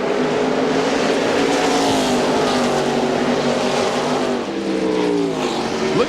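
Race cars lapping Richmond racetrack during the 1999 Autolite Platinum 250: a loud, continuous, layered roar of several engines at once, their pitches shifting as the cars run past with no let-up and no talking.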